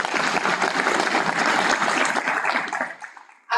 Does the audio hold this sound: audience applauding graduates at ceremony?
yes